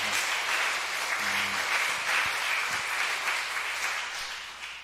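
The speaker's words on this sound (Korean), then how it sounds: "박수 한번 해드리겠습니다" An audience at a church elder installation service applauds, a dense, steady wash of clapping that fills the room for several seconds without letting up, with a faint voice briefly underneath.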